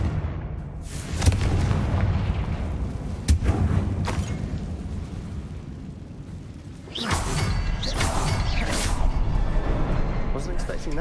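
Fiery spell blasts from the Confringo curse in the Hogwarts Legacy video game, several sharp booming bursts followed by a louder rushing explosion, with voices speaking over the action.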